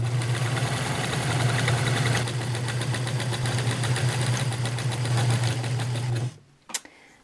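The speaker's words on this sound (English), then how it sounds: "just hold on to your fold and let the machine do the work" A sewing machine fitted with a hemmer foot runs steadily for about six seconds, a fast even mechanical hum with rapid needle ticking, close and loud, then stops with a brief clack.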